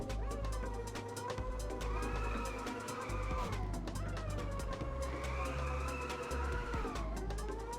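Car engine from the Inertial Drift racing game, droning steadily with whining tones that climb and dip as revs rise and fall, continuous and fairly loud with no talk.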